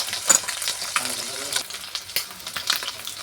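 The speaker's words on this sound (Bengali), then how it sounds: "মাছ ভাজা হয়ে গেছে, এবার তুলে নেব" Fish sizzling steadily in hot oil in a pan, a dense continuous crackle with occasional sharper pops and spatters, close and fairly loud, with no voices.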